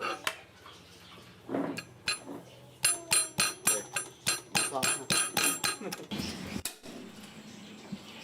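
A series of sharp, rhythmic pounding knocks as candlenuts are crushed, about a dozen in quick succession, with a few scattered clinks before and after.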